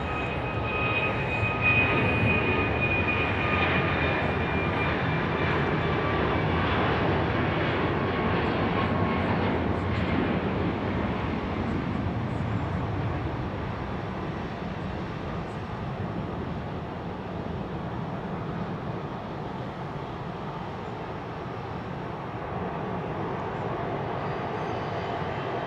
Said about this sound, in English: This is another MAX 8.